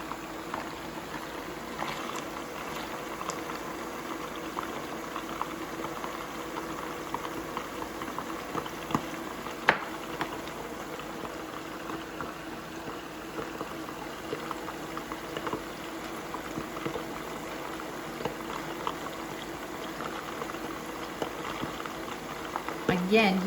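Meatballs fry in hot olive oil with a continuous bubbling, crackling patter that stays fairly even and moderately loud throughout.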